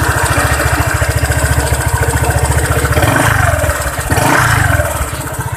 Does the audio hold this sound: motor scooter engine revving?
yes